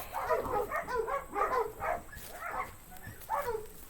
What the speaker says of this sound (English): Sorry you're hearing dogs.